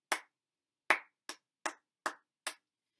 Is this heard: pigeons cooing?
no